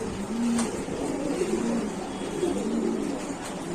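Pigeons coo softly and repeatedly in a pigeon shop, low throaty calls over a steady background hum.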